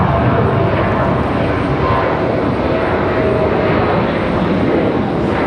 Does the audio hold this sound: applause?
no